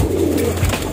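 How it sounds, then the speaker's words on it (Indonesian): A single domestic pigeon gives a close, loud, low coo lasting about a second, with no one speaking. "Ini tadi merpati Megan yang turun jadi"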